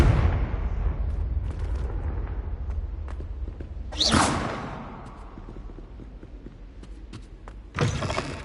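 In Hogwarts Legacy, a Confringo fire spell detonates with a dense rumbling blast that fades over several seconds, then two sharp whooshing bursts follow, one near the middle and one near the end, all without speech.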